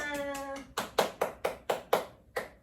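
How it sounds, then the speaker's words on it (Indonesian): A small classroom group gives a short round of applause, about six distinct, evenly spaced claps close by, following a brief voiced tone at the start. "Tepuk tangan dulu untuk teman-temannya."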